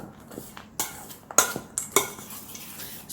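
Dry ingredients and chocolate chips being stirred in a bowl for cinnamon chocolate chip bread, heard as scattered scraping and clinking knocks of a utensil against the bowl, close and moderately loud with quiet gaps between strokes.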